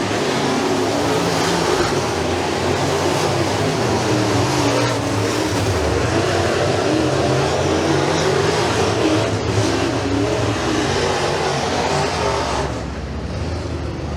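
Rush Pro Mod race cars at Bradford Speedway, a dirt oval, a dense sustained engine roar close by and loud throughout, easing slightly in the last seconds.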